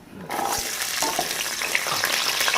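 Whole spices, cinnamon, cloves, cardamom and stone flower, drop into hot oil for mutton chops, setting off an immediate loud, steady sizzle and crackle that carries on close by.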